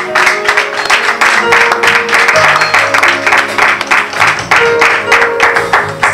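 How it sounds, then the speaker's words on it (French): A church congregation applauds loudly and steadily through the whole stretch, dense clapping mixed with music and raised voices in a large, reverberant hall. "Applaudissons pour le roi des rois."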